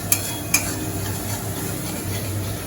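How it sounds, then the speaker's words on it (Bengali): Spice paste for potol dorma is sautéed in a pan with a soft, continuous sizzle, and two light utensil clicks sound near the start. "মশলা কষানো হচ্ছে।"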